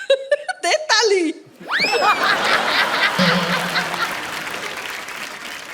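A television comedy studio audience breaks into applause and laughter after a host's exaggerated laughing imitation, the clapping swelling to a steady, moderately loud wash that continues under talk.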